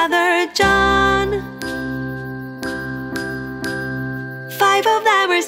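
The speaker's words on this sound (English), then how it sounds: "Morning bells are ringing." Chiming bell tones ring out in a children's lullaby, with long sustained struck notes repeating in a slow, steady pattern, loud and clear, bracketed by brief melodic phrases.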